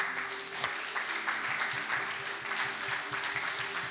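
A church congregation applauds the Lord during a sermon, producing steady, dense clapping at moderate volume that carries evenly throughout without pause.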